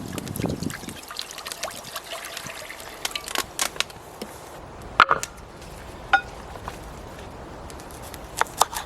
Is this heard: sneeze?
no